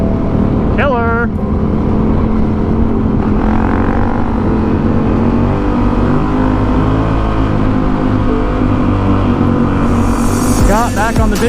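A Honda CRF 450L dirt bike engine runs loud and close with a rough, continuous drone and shifting rev changes during wheelie practice in a lot, with wind buffeting and brief vocal sounds over it.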